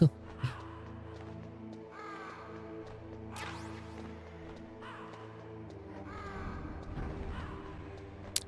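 Crows cawing in Metal Gear Solid, several harsh caws in a loose, repeating rhythm over a low droning ambience, fairly close and clear.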